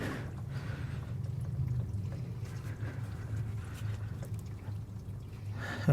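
Coolant draining from a heater hose on a Chevrolet Sonic 1.4L turbo engine makes a faint, soft trickle and splash that continues quietly without voices.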